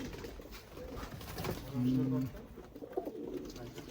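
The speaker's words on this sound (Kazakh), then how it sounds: "Dilşat, көп сенің кептерің қандары ғой дейме?" A pigeon in Tashkent gives a brief, low coo amid quiet background noise and faint voices.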